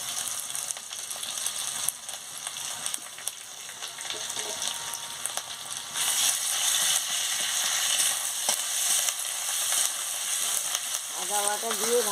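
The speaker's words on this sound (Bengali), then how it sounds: "আদা বাটা দিয়ে ভালো করে নাড়িয়ে নিচ্ছি।" Ginger paste sizzles and is stirred together with fried chopped onions in a pan for a pumpkin ghonto. A steady, close crackling runs throughout, growing louder and denser partway through, with faint scraping and a brief tonal sound near the end.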